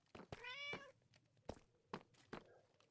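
An orange cat in the Minecraft video game meows close and faint, one drawn-out meow followed by soft thumping steps.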